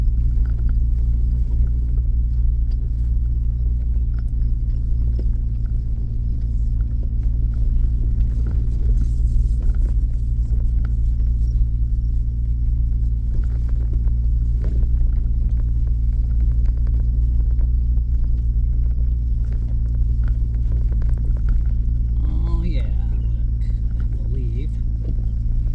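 A car drives a mountain road on the way to Owyhee Reservoir, its steady, loud low rumble continuing unbroken throughout from inside the vehicle.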